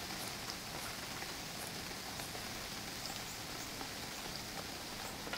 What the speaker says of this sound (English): And it starts raining again.